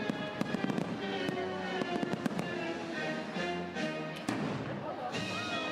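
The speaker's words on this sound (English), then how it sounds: "As Walt Disney World's 4th of July fireworks welcomed us home." Walt Disney World 4th of July fireworks over Main Street, USA: a dense, continuous barrage of loud bursts, crackles and booms layered together, with sharp reports every few moments and crowd voices faintly beneath.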